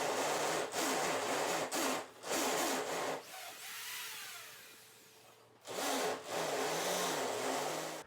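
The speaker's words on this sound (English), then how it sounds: "To drill these holes for the 1/2-inch PVC pipe, I drilled a 3/8 inch starting hole and used a 1-inch hole saw." A drill fitted with a 1-inch hole saw cuts holes in 1/2-inch PVC pipe, giving loud grinding bursts that stop briefly and restart, with a quieter scraping pause in the middle.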